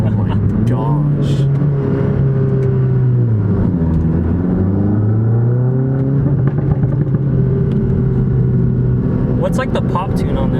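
A tuned 350 HP VW GTI engine revs and drones loudly and steadily, its pitch rising and falling, with sharp exhaust pops crackling near the end while people talk over it.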